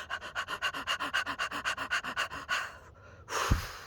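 A person breathes in quick, rhythmic panting bursts, about six per second and close, imitating a puppy, then pauses and lets out a longer exhale.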